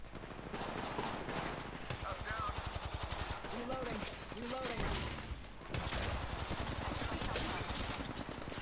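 Rapid bursts of automatic gunfire and single shots from the mobile battle game Apex Legends Mobile crackle in quick succession, loud and continuous, while a player talks over the action.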